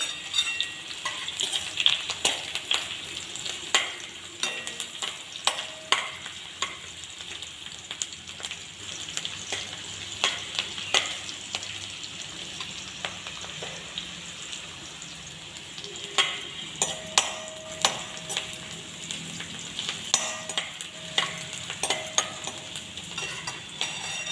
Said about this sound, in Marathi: आता यामध्ये आपण कांदा भाजू कांदा व्यवस्थित परतून घेऊयात